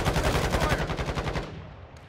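Rapid automatic gunfire in the Call of Duty DMZ mode at an airport, a loud close burst of evenly spaced shots lasting over a second and then cutting off, followed by a faint click.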